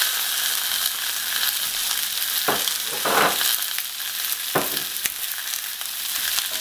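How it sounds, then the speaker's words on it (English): Sausage fries in a skillet with a little oil, giving a loud, dense, continuous sizzle, with a few brief scraping knocks from a utensil as the meat is moved. "I'm just going to add just a little bit of oil in there. Probably about 1 to 2 teaspoons. And then I'm just going to add in all of my sausage."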